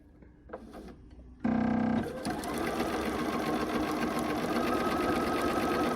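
A sewing machine with a quarter-inch foot stitches strips of red and white quilt fabric, starting after a few soft handling sounds, then running in a loud, fast, steady mechanical whir up close.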